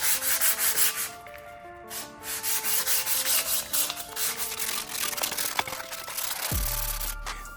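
Hand sanding with 320-grit wet-and-dry paper, keying a surface on a Porsche Boxster 987, a steady close rasping rub in continuous back-and-forth strokes that stops abruptly near the end.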